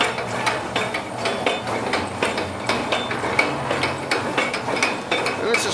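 A Federal Mfg. 16 valve rotary filler machine runs with its timing screw feeding a star wheel, giving a steady, close mechanical clatter of evenly spaced clicks and knocks over a constant rumble.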